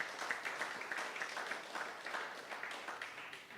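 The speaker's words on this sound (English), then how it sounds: "Let's give them a warm round of applause." Warm applause rises from guests at a student representative council gala dinner, a steady, moderately distant patter of many hands clapping with no voices over it.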